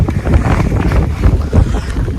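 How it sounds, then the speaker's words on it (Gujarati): Strong wind gusts across a flooded village farm field, buffeting the microphone with loud, rumbling surges that rise and fall, with no voices. "અત્યારે પવન છે બહુ ઝાઝો"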